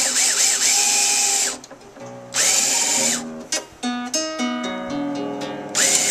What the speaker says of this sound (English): now I'm going to wind this on with my handy dandy winder